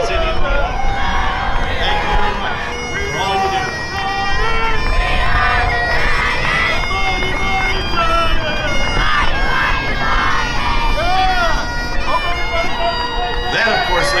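Royal Oak Titans cheer and football squad marching in the 2024 Saint Patrick's Day parade in Royal Oak, Michigan, with a dense, continuous roar of crowd cheering, shouting and babble mixed with music throughout.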